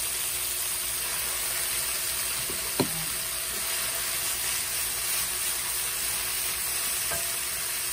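Sayote tops stir-fried in a pan give a steady, dense sizzle that runs throughout with the scrape of stirring, plus a couple of brief clinks against the pan near the start.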